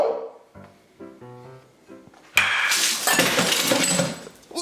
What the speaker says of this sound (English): What was that crashing noise?